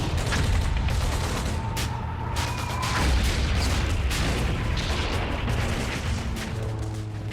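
Omaha Beach on D-Day: a dense, continuous roar of battle with rocket launchers, mortars and machine-gun fire, booming blasts and rattling bursts layered loud and close without a break, and no clear voices.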